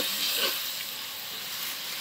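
Turmeric, chili and coriander powder frying in a pan with salt, an even soft sizzling hiss held close throughout, with a slight swell near the start.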